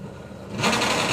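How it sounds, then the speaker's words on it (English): Motorcycle engine on a drag racing bike at a summer nationals drag strip, revving during failed burnout attempts: a short, buzzing, high-pitched rasp that swells louder partway through. "I think that's 3 attempts at a burnout and no go, unfortunately."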